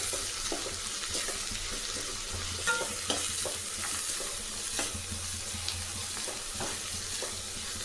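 Three large chopped onions frying in a pan for onion chapati, with steady close sizzling and repeated scraping stirs throughout.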